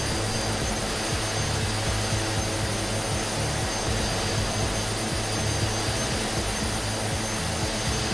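A DHC-6 Twin Otter departing in Microsoft Flight Simulator over Victoria High Country, a steady loud turboprop engine roar with a constant whine, unbroken and alone for the whole stretch.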